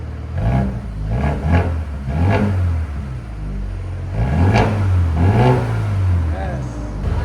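A 2021 Mercedes A35 AMG with straight-pipe exhaust revving near the tailpipe, several loud rising and falling blips over a rumbling idle, with voices talking over it.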